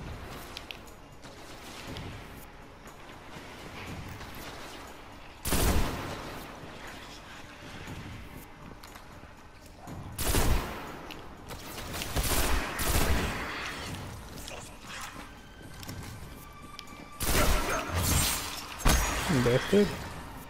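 Grenades burst repeatedly across a Destiny battle, with sharp explosions and shattering blasts mixed with rapid gunfire in a loud, clustered sequence, while a player talks throughout.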